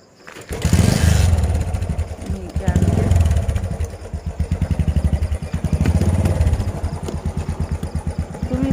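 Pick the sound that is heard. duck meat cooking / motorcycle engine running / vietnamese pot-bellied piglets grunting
motorcycle engine running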